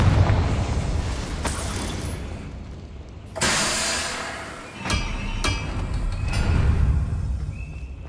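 A Confringo explosion spell goes off in Hogwarts Legacy, a loud fiery blast with booming impacts amid the game's rumbling background, with a few sharp bursts following.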